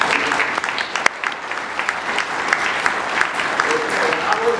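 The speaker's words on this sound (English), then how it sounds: "Ladies and gentlemen, can I ask you to give Dr. Ballard a round of applause?" An audience at Titanic Belfast applauds Dr. Ballard with close, continuous clapping, fairly loud and uneven, with a few sharper individual claps standing out.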